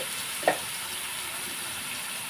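Onions fry in a pan for a curry, a steady close sizzle with a single brief clink of a utensil early on, no voices.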